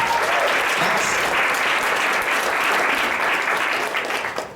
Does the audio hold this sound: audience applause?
yes